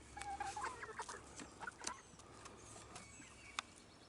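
Chickens cluck near a Leghorn hen that has gone broody, with soft, irregular calls in short bursts and a couple of sharper squawks over quiet outdoor background.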